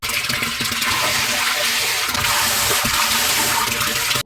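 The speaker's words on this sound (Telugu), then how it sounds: "ఇన్లెట్ క్లీన్ చేశాక వాటర్ ఫ్లో ఎలా ఉందో మీరే చూడండి" Strong, continuous rush of water gushing and splashing from a Texmo electric water pump outlet after inlet cleaning, steady and loud throughout with no pauses.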